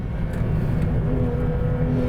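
A Porsche 911 GT3 RS at speed on a smooth race track, its engine a steady, loud, sustained drone from start to finish with no talk.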